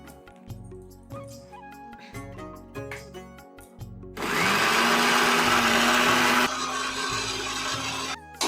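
Clattering, rhythmic kitchen noises give way to a loud, steady blender roar grinding a thick spice paste, its pitch shifting slightly before cutting off.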